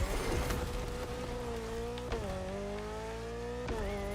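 A simulated car engine in the video game The Crew 2 drones and shifts pitch steadily, with brief revs and gear changes; no talking.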